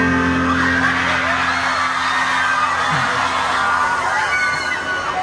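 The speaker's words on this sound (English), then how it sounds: "Crowd is hyped." Concert crowd at Lollapalooza 2016 in Brazil roaring: loud, sustained whoops, yells and cheering from a large audience, with faint music and chanting mixed in.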